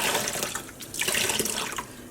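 Vinegar-acidified water is poured onto yarn in a dyepot, a close, steady splashing stream that briefly dips and then continues, with no talk.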